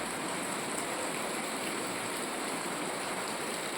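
Cold rain falls steadily in the mountains in October, a constant even hiss of heavy downpour that holds without pause and stays unbroken by any voices.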